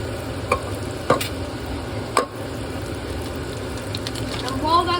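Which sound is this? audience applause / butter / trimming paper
butter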